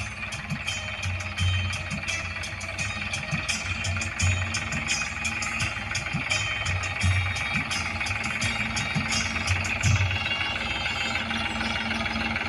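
A tractor engine idles steadily for the whole stretch, with a low rhythmic knocking throb and a constant rumble, close by and with no voices.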